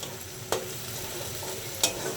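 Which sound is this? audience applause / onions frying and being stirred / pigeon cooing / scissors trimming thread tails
onions frying and being stirred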